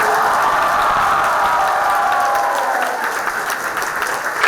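Loud, dense applause from an academy audience fills the whole few seconds, a continuous wash of many hands clapping at a results celebration, steady with no gaps.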